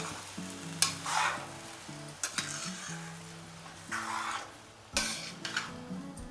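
Sabudana khichdi with a tempering of onion and green chilli is stirred in a pan, soft frying hiss broken by several distinct scraping strokes of the spoon against the pan; no talking.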